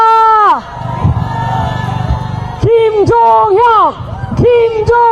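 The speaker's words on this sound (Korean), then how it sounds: "큰 박수 부탁드립니다." A crowd at a political protest rally cheers and chants in loud, rhythmic unison. The bursts of voices come in repeated waves, with a murmur of noise between them.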